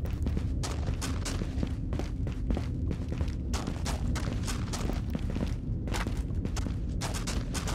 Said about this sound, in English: Gunshots sound great under here,